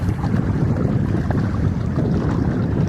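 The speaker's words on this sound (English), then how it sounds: "Wind's blowing about 6-7 miles an hour." Steady outdoor wind buffeting the microphone on a lakeshore or seashore on a mild spring day, a constant low rumble with no pauses and no voices.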